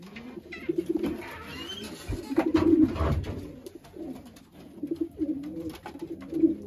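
Pigeons coo nearby in low, throaty, repeated calls that rise and fall in uneven bursts over quiet background noise.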